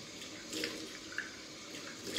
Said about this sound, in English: Got to get the hot water going.